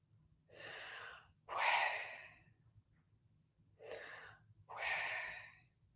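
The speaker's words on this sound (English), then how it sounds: "Inhale and exhale." Two pairs of deep, audible breaths close to the microphone, each a drawn-in inhale followed by a longer airy exhale, with quiet pauses between them.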